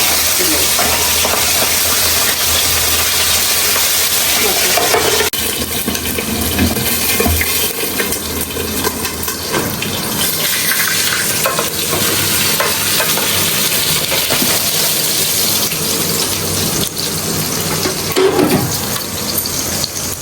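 Food frying in a pan in a home kitchen, a steady loud sizzle with scraping and stirring throughout, water or tap noise mixed in, and no clear talk.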